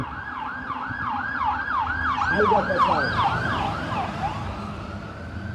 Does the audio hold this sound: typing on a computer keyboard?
no